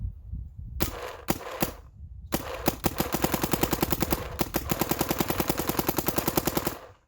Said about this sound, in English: So let's take some shots and see what we think about it.